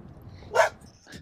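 A security dog at an outdoor cricket match gives one loud bark in the middle, then a fainter yip near the end, over low background noise.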